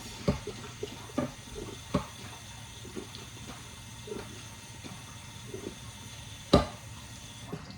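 Food being rinsed under a running kitchen tap, a soft steady stream of water with scattered light knocks and splashes, one louder clack near the end, fairly quiet throughout.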